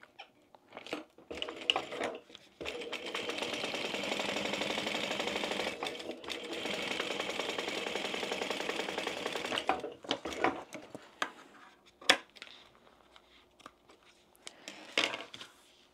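A sewing machine top stitches the base of a fish-shaped zip pouch, running in one steady burst for several seconds. Shorter stops and starts follow, mixed with fabric handling and small clicks.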